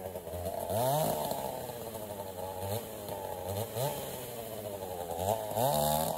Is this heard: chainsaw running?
yes